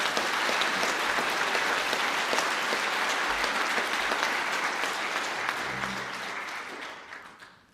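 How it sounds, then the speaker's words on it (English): Applause for science graduates at a college graduation ceremony: a continuous, even wash of many hands clapping from a large hall audience, steady throughout and tapering off at the close. "Can I ask for a round of applause"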